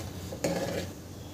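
Corn soup ingredients, bell pepper and grated ginger, are stirred in a pan with a utensil. A single sharp clink of metal on the pan rings out, followed by soft scraping, and the whole thing is fairly quiet.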